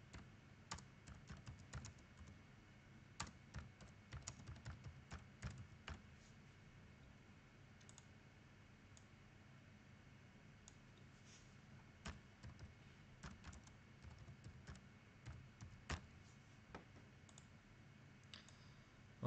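Quiet keystrokes tap on a computer keyboard in irregular bursts of clicks, faint and close, with short pauses between runs of typing.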